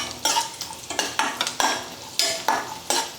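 Cashews and almonds fry in ghee with raisins added, for a poha payasa. A spoon scrapes and clatters against the pan in a quick repeated rhythm, roughly twice a second, over a soft sizzle.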